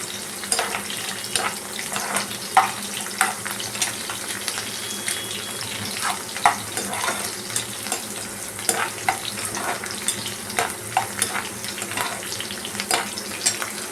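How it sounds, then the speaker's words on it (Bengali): Onion frying in a pan over a low-to-medium gas flame, a continuous close sizzle with frequent small crackles and stirring scrapes, steady and fairly loud throughout, no voices. "পেঁয়াজটা মোটামুটি একটু লালচে হতে দেবো আমি, নাহলে এটা ভালো লাগবে না। লো থেকে মিডিয়াম ফ্লেম করে নিলাম গ্যাসে।"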